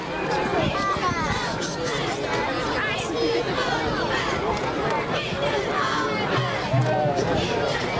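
Big crowd of fans at a 1997 high school football game, Nelsonville-York versus Trimble, gives off a constant murmur of chatter and hubbub around the field, with broadcast commentary talking over the babble.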